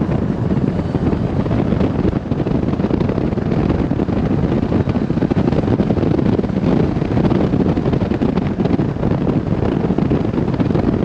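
Strong wind buffets the microphone in a constant loud roar and rumble, unbroken for the whole stretch with no voices.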